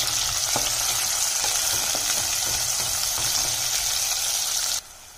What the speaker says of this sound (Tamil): வெங்காயத்தை போட்டு நல்லா வறுத்திடலாம்.